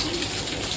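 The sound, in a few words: heavy rain falling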